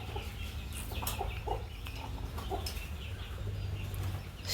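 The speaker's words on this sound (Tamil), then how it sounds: "இது மொட்டுட்டு இருந்த கோழிங்க" Chickens clucking in a farmyard, soft scattered clucks and calls over a steady low background hum, moderately distant.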